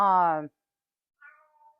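A single loud, drawn-out cat meow up close, followed after a pause by a softer, shorter meow.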